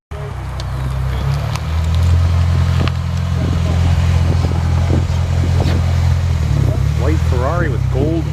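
A white Ferrari 308 with gold wheels runs its engine in a steady, loud low rumble that holds throughout, with someone talking over it near the end.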